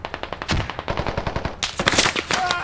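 Rapid gunfire from a squad shooter game, a quick string of sharp, evenly spaced shots up close, then a louder burst of cracks and rattling impacts near the end.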